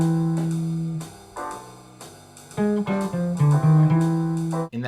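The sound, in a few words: guitar jazz lick shifting up the fretboard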